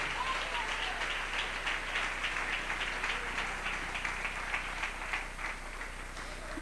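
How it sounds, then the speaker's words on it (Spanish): A church congregation at a sermon applauds, a soft, distant patter of many hands clapping steadily and slowly tapering, set against a faint electrical hum. "Dele ese aplauso al Rey"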